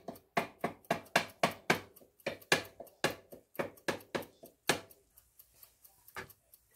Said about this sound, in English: Just slicing it and chopping it like that.